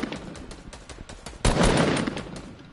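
Rapid automatic gunfire aimed at an enemy base in a multiplayer video game, a steady rattle of shots that jumps into a louder, denser burst about halfway through.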